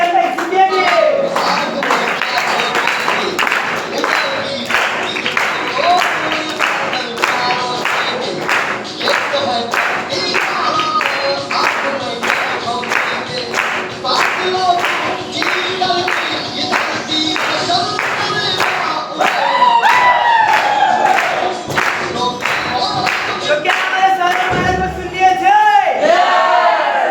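A large stage-event crowd claps loudly and steadily while cheers and shouts rise above it as executives are welcomed onstage, the applause continuing for nearly half a minute.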